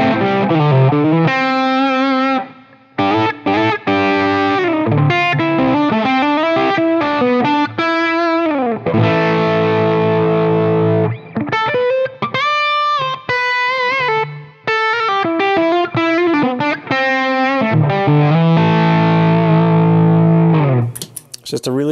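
Electric guitar with a clean tone driven through an Xotic Soul Driven overdrive pedal, played as continuous warm, mildly distorted chords and melodic lines for about twenty seconds, loud and up front with only brief pauses.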